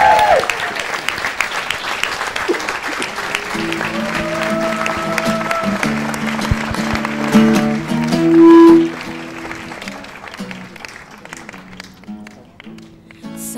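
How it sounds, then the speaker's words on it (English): A live audience breaks into sustained applause, a dense wash of clapping with scattered cheers that swells and then tapers as music begins underneath. "So a big round of applause"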